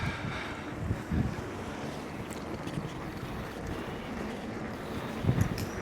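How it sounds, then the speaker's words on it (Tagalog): Strong wind roars and buffets the microphone in a constant rush during a bicycle ride, with occasional heavier gusts and no voices. "Lakas ang hangin."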